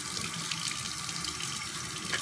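Tap water runs steadily into a sink while a Dead Sea mud face mask is being rinsed off, a continuous close hiss and splash with no talking.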